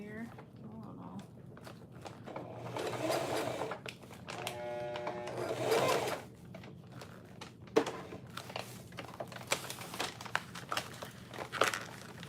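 A sewing machine stitching a clear tote with a gusset gives a short burst of motor whir, surrounded by crinkling and rustling of the clear plastic being handled nearby.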